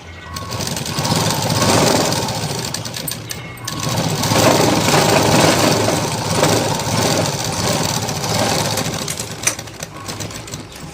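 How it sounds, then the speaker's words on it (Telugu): A sewing machine runs in steady, loud bursts while stitching a shape belt on a blouse, its motor whirring continuously with a short pause partway through and no talk over it. "ఫస్ట్ ఉక్స్ పట్టి కాజా పట్టి నుంచి నేను కుట్టడం అనేది స్టార్ట్ చేశాను కదా"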